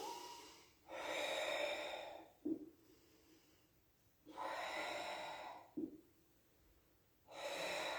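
Deep, slow breaths during a Pilates exercise: three long airy exhales alternate with quieter inhales, each ending in a short sharp intake, steady and close.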